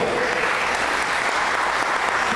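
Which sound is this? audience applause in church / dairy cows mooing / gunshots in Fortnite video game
audience applause in church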